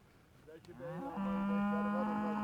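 A hornless German cow in a village cattle herd lets out one long, rising, drawn-out moo, close and fairly loud, with no talking over it.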